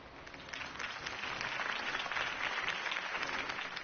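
Steady crowd applause in a video game, dense clapping from many hands, moderately loud and continuous throughout with no voices over it.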